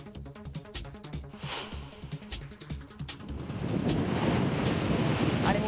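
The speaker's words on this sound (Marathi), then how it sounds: "मुंबईच्या समुद्र किनाऱ्यावर आजही मोठी भरती, ताशी 50 किलोमीटर वेगानं वाहत आहेत वारे." High-tide waves crash and surge on the Mumbai seashore as strong wind buffets the microphone, the roar of surf swelling louder toward the end and drowning everything else.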